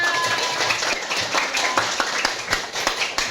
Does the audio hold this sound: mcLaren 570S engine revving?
no